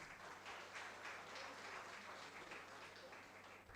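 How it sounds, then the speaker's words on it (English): Faint, distant applause from an audience at a university international conference, a soft steady wash of many hands clapping for several seconds without a break. "kindly join me in giving a warm round of applause"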